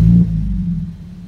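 Deep, bassy engine rumble from a nearby idling 2009 BMW 120i convertible with performance exhaust and sport cat, strongest at the start and then settling into a steady low drone.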